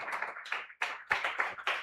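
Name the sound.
congregation clapping at a church service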